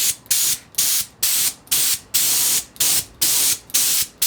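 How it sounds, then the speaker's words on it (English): Spray gun laying candy paint onto motorcycle fairings in repeated bursts, about nine loud hissing passes of roughly a third of a second each, separated by brief pauses, close to the microphone with no talking. "This is a candy we're spraying now."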